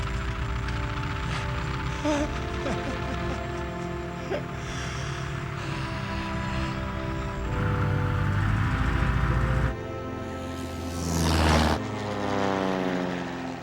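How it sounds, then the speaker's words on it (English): A propeller-driven airplane engine starting up at an abandoned Hawaiian airstrip, a loud continuous drone that rises and swells, with a brief surging roar near the end. "the plane started."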